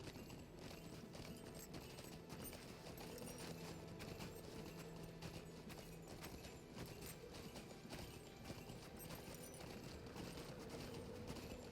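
In the online game LOTRO, a mounted orc rider's horse hooves clip-clop in a steady, continuous rhythm, faint and somewhat distant beneath low game ambience.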